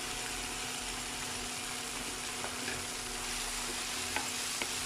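Chopped ridge gourd sizzles in hot oil in a home kitchen pan, a steady loud frying hiss with occasional faint scrapes of stirring, no voices.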